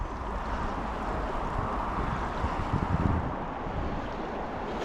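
Breezy evening wind by a river while fly fishing, a steady, broadband rushing roar buffeting the microphone throughout with no talk.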